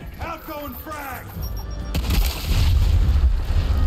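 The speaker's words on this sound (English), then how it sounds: "Frag grenade." A frag grenade explosion in the strategy game Gears Tactics, a sudden deep boom with a lingering rumbling tail, following a short stretch of speech-like voices.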